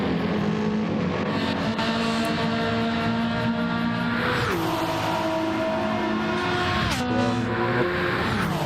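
A Ferrari race car roars steadily at Le Mans in a World Endurance Championship race, its engine note climbing and dropping through gear changes with one sharp downshift. The car stays close and loud throughout, with no voices.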